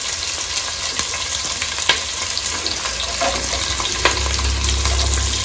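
Onion, garlic and ginger frying in a pan for biryani: a loud, continuous sizzle with occasional clinks and scrapes from stirring, no voices.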